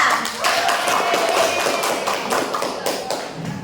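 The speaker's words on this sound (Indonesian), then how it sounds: "Tepuk tangan untuk kelompok 3." Classroom applause for a student group in a school lab, a dense patter of many hands clapping at once, steady and fairly loud across the whole stretch, with a voice briefly audible underneath.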